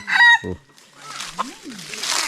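Chickens on a rural property where a group of birds was brought in, giving a loud cluck-like call at the start followed by softer scattered clucking and calls at moderate distance.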